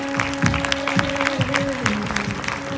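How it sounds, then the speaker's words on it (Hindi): An audience claps for Akshi Dutta at a Modicare leaders' event, a steady round of applause filling the hall while a voice speaks over it. "जोरदार तालियां अक्षय दत्ता के लिए, जोरदार ताली"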